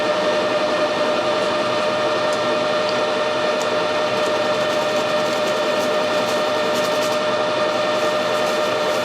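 An apple peeling machine running at 640 RPM makes a steady, loud mechanical whir with constant tonal hum and faint clicking throughout, no voices.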